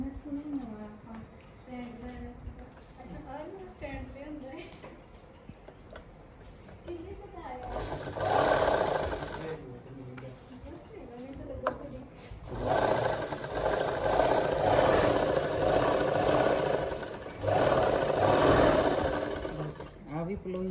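A sewing machine stitches pleats on a kameez, running in two sustained whirring bursts close by, while someone speaks before and between the runs.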